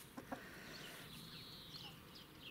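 Backyard hens, one of them laying soft-shelled eggs, give a couple of brief, faint clucks over a quiet outdoor background with distant birdsong.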